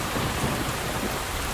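Rain at night as a film sound effect: a dense, loud, steady downpour hissing on surfaces, with a low rumble beneath it that may be thunder. No voices are heard.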